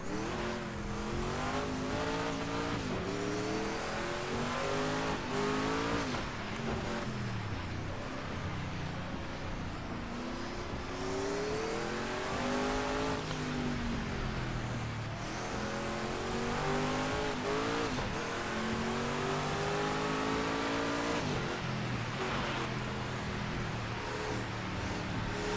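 Race car engines roar continuously in Project Cars 2 during a Transworld Proto C championship race on rain tyres, with rising and falling revs, gear changes and tyre noise, loud and sustained throughout, with no talk.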